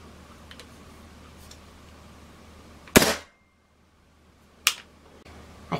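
A suppressed Hatsan Blitz .22 air rifle fires two sharp, separate shots about two seconds apart, each a crisp, loud crack that fades quickly over quiet background noise.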